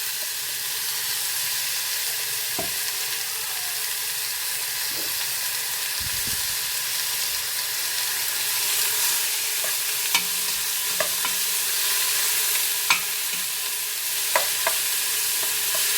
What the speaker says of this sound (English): that's the spring onions frying, and we'll pop in the chicken